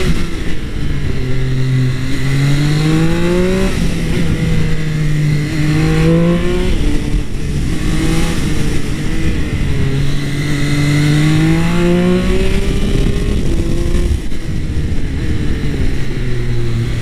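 A Triumph Speed Triple 1200 RS motorcycle engine revs up and down repeatedly, loud and close, its pitch rising and falling in several sweeping climbs under steady wind roar.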